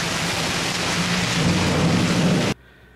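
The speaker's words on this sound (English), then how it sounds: "it's raining outside my windows right here" Steady heavy rain outside windows pours loudly as a continuous broadband wash for about two and a half seconds, then cuts off abruptly to a faint background hiss.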